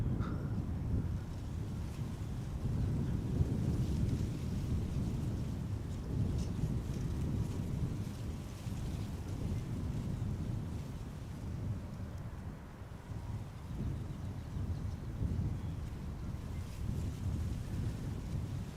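A JetBlue jet airliner bound for Boston departs Amsterdam Schiphol Airport. Its low, steady engine rumble is heard from a distance, fairly faint and mixed with wind buffeting the microphone.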